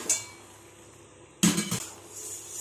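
Cheese is stirred into white sauce pasta in a pan: a faint scrape, then a short burst of metallic clinks and clatter of a utensil against the pan, close and fairly quiet.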